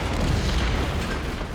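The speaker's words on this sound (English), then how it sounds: "Vindicator's coming for another bombing run." A Vindicator bombing run in Command and Conquer: Red Alert lands as a dense, continuous low rumble of blasts rolling together, loud and close, with no talk.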